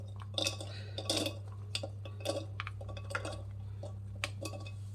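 Pomegranate seeds tip into a steel mixer jar in a series of clinks and light rattling taps, irregular and close, over a steady low electrical hum.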